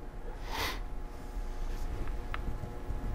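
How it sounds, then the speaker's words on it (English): A person's single sharp nasal sniff close to the mic, with a faint click a bit later, over a steady low hum of room noise and no talking. "I apologize for the sniffing"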